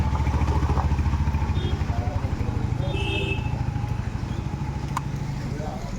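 A motorcycle engine idles with a rapid throbbing putter on a rainy day, then fades gradually as it pulls away, with people talking nearby.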